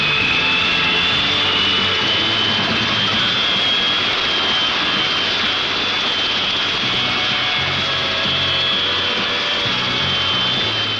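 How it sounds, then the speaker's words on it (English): A loud RAF Victor jet bomber arriving at an airfield roars continuously with a high whining tone, steady and close throughout, no voices. "Into Floyd Field comes the RAF Victor with Bob Fuller aboard."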